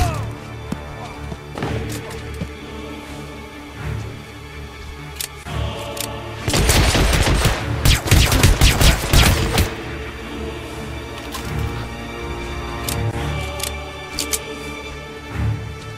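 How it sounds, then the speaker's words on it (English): Gunfire from the video game Hitman: Absolution crackles in a dense burst of sharp, overlapping shots midway through, with scattered thuds and impacts over steady game ambience before and after. "Gunshots moving in."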